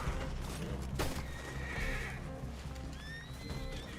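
Horse in the video game Red Dead Redemption 2 giving a loud whinny over a steady clip-clop of hooves, with game sounds and a faint knock in the background.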